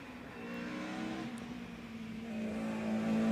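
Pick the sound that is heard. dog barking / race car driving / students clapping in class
race car driving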